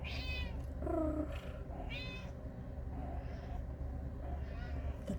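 A Turkish Van cat gives two or three short, fairly clear meows close by over a steady low background hum, with quiet stretches between calls.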